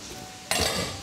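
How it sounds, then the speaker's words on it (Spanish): Octopus and gnocchi are stirred in a pan, a quiet hiss followed by a sudden louder scraping and sizzling burst as the utensil moves through the food, with no talking. "vamos a menear"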